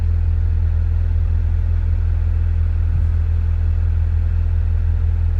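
A 2000 Nissan S15 Silvia Spec S with 180,000 km idles steadily through its muffler, a loud, continuous low rumble with no revving and no talk over it.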